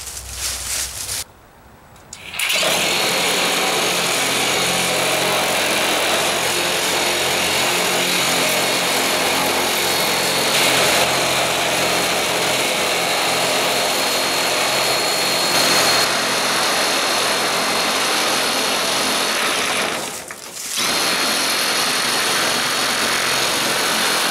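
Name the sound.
Milwaukee M18 2635 metal cutting shears cutting sheet metal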